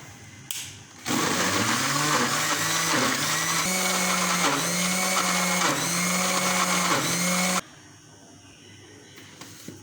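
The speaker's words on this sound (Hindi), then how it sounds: "इसमें जो है ये थोड़ी थोड़ी चीज़ें भी पीसती रहूँगी, कहीं प्याज पीस लूँगी इसमें ताकि ये बारीक हो जाए" An electric mixer grinder pulverizes onion and chillies for mutton kebabs, its motor whining loudly in a long, pulsing run of roughly six seconds with rhythmic surges, then cutting off abruptly into quiet.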